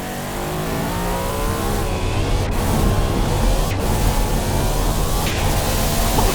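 A Record Breaker 90 car from a 1990-era video game accelerates hard on a test track on boost, its engine rising in pitch through several gear shifts, loud and continuous with no voices.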